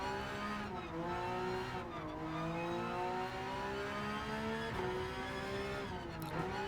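A Porsche Cup race car in Gran Turismo 7 laps a circuit, its engine a steady high whine that rises and drops in pitch through gear changes and corners, quiet throughout.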